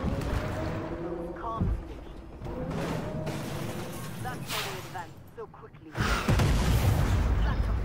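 In the Armoured Warfare video game, a Sheridan light tank fires its big cannon, giving two heavy booms a few seconds apart amid battle noise while a person talks throughout.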